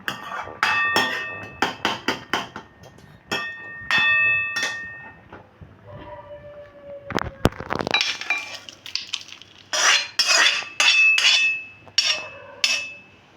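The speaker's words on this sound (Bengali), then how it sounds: "আমি হাতা দিয়ে একটু চেপে চেপে ম্যাশ করে দিচ্ছি" A metal ladle presses and mashes a date and dried mango chutney in a pan, producing a series of sharp clinks and knocks, close and fairly loud, in irregular bursts with short pauses; no speech.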